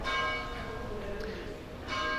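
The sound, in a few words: chapel church bells ringing for feast, Malta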